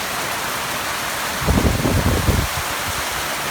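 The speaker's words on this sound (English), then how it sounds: "It's bucketing down rain." Heavy rain pours in a steady, dense roar, with a brief low rumble swelling in the middle and fading away.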